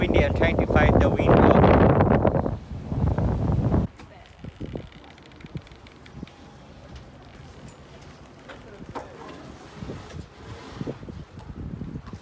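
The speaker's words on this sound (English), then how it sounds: "it's very windy. I'm trying to fight the wind." Strong wind on a beach in the Whitsundays, Australia, roaring hard against the microphone for the first few seconds, then easing into a softer, steady gusting rustle.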